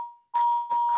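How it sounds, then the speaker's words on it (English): A phone gives a sustained electronic tone with ringing overtones that goes off during a paranormal talk radio broadcast, loud and close, with brief room sound around it. "That's my phone."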